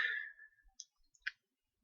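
A computer mouse clicks softly on the last cell of a range in an Excel spreadsheet. Two or three faint, crisp clicks follow a brief fading tone in an otherwise quiet room.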